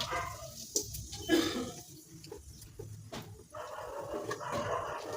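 A dog barks outdoors during cooking in a home kitchen, a few scattered barks and yips that sound somewhat distant and muffled against low room noise, with no talk.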